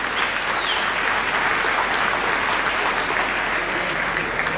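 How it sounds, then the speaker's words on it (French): Audience applauding a world champion at a 2019 sports awards ceremony, steady dense clapping that holds at an even, loud level throughout with no break. "on peut l'applaudir quand même, champion du monde"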